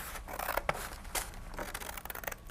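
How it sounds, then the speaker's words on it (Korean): Scissors cut folded paper from the fold toward the center to make a mini book. The snipping and rubbing are close and fairly quiet, with a few crisp cuts and scraping paper sounds, and no talk. "여기 접힌 면에서부터, 벌린 면 말고 접힌 면에서부터 중앙까지 잘 잘라줍니다"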